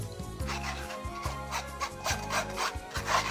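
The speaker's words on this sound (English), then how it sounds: "Now sieve the mixture of tomatoes." Cooked tomato mixture pushed through a sieve for homemade ketchup, rhythmic rasping strokes repeating every half second or so, close and moderately loud, with no voices.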